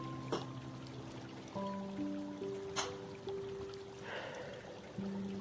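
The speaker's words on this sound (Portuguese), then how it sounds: "ouvindo o barulhinho da água" Gentle flowing water trickles softly in the background, with occasional drips and splashes, beneath sustained musical tones.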